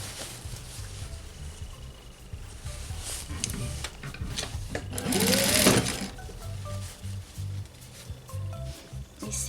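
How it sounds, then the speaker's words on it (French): Sewing machine stitching the lining opening of a shortened winter coat sleeve, a steady mechanical whir running throughout with a brief louder burst midway, and no talk. "je peux fermer cette ouverture de la doublure en faisant toujours une couture sur piqûre"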